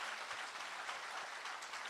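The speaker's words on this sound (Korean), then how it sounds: "그 판사에게 박수 한번 쳐주세요" An audience at a political book launch event gives steady, even applause. The clapping sounds faint and distant, with no voices over it.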